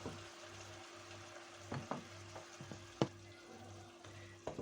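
Potatoes go into a frying pan with meat for a pea stew and sizzle softly and steadily, with a few sharp clinks and stirring taps, no voices.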